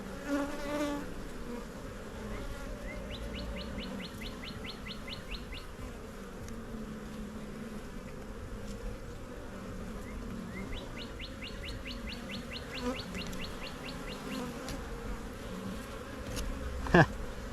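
Honey bees drone steadily around an open hive during a beekeeping inspection, a continuous close buzz with repeated fast ticking bursts and faint bird chirps in the background.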